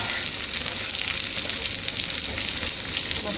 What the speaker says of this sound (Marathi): भेंडीचं झाकण काढू आपण आता हे बघा आता पलटी करून मस्त घेते